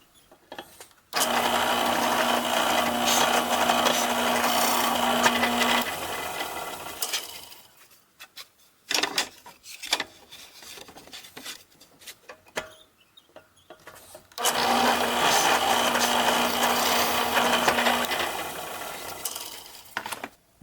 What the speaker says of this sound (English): For the holes I'm going to drill to mount this ski rack, I'm going to use a 3/16 inch countersink bit.